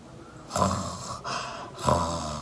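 A voice imitates loud snoring breathing: three heavy, raspy breaths in a slow rhythm, close and fairly loud.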